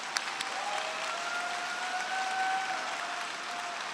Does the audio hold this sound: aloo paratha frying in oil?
no